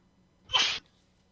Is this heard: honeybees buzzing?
no